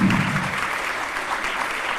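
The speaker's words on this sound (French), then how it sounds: "Donc, je voudrais qu'on applaudisse Anne Danjou, Cédric Falcon, Flavien Alvaraz" Conference audience applauding, a dense, even wash of clapping hands from a large room, steady and sustained without talk.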